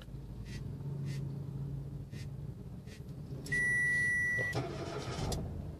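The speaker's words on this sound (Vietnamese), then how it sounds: "Em bấm đèn nổ máy nè, bằng điện thoại nè." A car's engine is started remotely from a phone app over a Bluetooth key module, bringing beeps and then a steady idling engine rumble that rises and holds up close.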